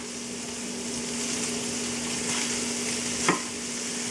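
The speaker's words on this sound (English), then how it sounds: "Now we're gonna add our peas" Frozen peas frying in a pan for a fusilli pasta dish, a steady hissing sizzle with a low hum underneath and one brief scrape of stirring near the end, close and moderately quiet.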